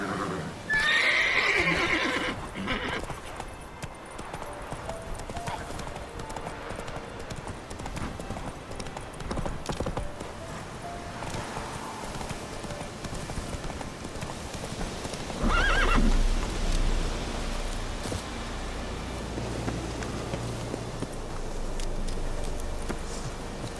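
Roach, a horse in The Witcher video game, lets out a sharp neigh and then a second whinny, with hoof clip-clops trotting throughout amid game ambience and some rumbling later.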